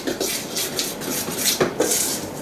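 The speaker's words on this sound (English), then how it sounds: "now you're going to mix that up with a whisk" Whisk knocking and scraping against a bowl while mixing dry buttermilk biscuit ingredients, a quiet, close run of irregular metallic clinks and taps with no talking.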